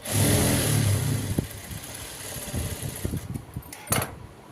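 A sewing machine stitching a saree blouse whirs for about a second, then stops, followed by faint clicks and handling of cloth and a brief sharp rattle near the end.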